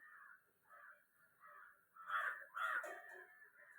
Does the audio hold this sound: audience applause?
no